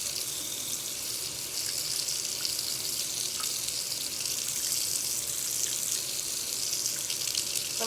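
Kitchen tap water runs steadily into a sink during home pizza dough preparation, a constant close hissing splash with no talking.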